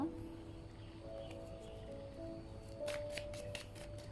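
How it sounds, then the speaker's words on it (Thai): Tarot cards being shuffled by hand close up, with soft riffling and a run of crisp flicks near the end over quiet room tone. "เดี๋ยวเราขอล้างไพ่แล้วมาดูกองที่สองกันต่อนะ"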